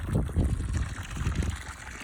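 A vibration pump drawing drilling fluid up out of a freshly cased water well, producing a continuous close churning, gurgling slosh of liquid with no voices.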